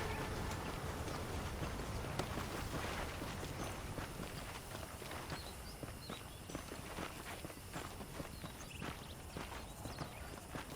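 Steady clip-clop of horse hooves at a riding pace in Red Dead Redemption, a continuous close rhythm of footfalls over faint ambient noise.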